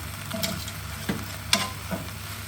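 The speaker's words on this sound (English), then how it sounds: "I'm just going to let that wilt down for just a couple of seconds inside the pan." Spinach wilts in a hot pan for tinned salmon pasta, sizzling steadily while a few sharp scraping and clinking stirs land at uneven intervals.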